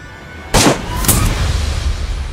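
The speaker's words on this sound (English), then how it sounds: "Just shot a zombie in the foot." Gunshots in DayZ aimed at a zombie: two sharp, loud cracks about half a second apart, each trailing off into a low outdoor rumble.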